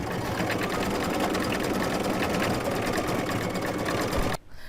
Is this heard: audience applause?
no